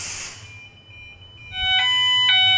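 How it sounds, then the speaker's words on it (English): A standard smoke detector set off by steam sounds its alarm in sharp, piercing electronic tones. A burst of hissing comes first, then a short pause, then the shrill beeping pulses in quick repeated bursts, loud and near. "You can hear the alarm operating now. That's the standard detector that's being affected by the steam"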